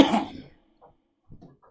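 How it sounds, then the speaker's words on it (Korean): A pastor coughs once, hard and loud, during a Sunday church sermon. The rough burst fades within half a second and leaves quiet with a few faint small sounds. "기침이 너무 심하니까."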